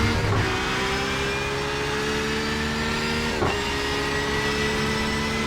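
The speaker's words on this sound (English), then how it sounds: "Cars with the engines just screaming to 175 before they finally hit the brakes here" GTE race car engines scream at high revs down a long straight at Le Mans in a sim racing series, a steady loud droning whine with layered engine tones and a brief gear change.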